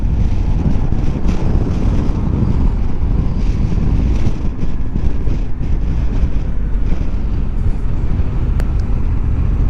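Strong wind buffeting and roaring across the microphone while riding a Honda NT1100 motorcycle on Seven Mile Lane, a loud continuous low rumble with gusty fluctuations.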